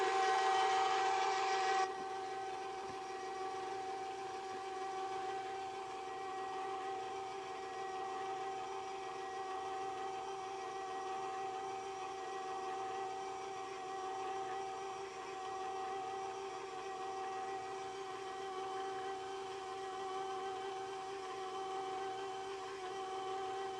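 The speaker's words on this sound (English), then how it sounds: "set mixer to low and add dry ingredients" An electric stand mixer runs on low, beating snickerdoodle dough as dry ingredients go in; a steady, even mechanical hum with a whining tone holds throughout, slightly louder in the opening two seconds.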